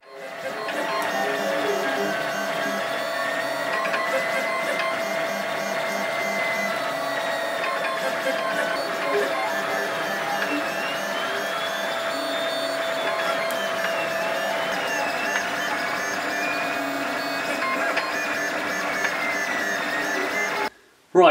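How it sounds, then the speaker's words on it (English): A 3D printer prints a long cosplay part for an Alien Xenomorph head, its stepper motors whining and warbling in shifting tones, loud and steady for about twenty seconds before stopping abruptly. "so I better get printing."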